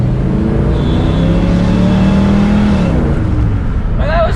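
A 1970 Pontiac GTO with a 455 engine pulls hard, its deep V8 note rising steadily in pitch under acceleration, loud and close, then easing off at the end.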